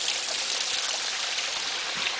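Water rushes steadily through a poured-concrete drainage tunnel, a broad even hiss of flow echoing with no pauses and no voices.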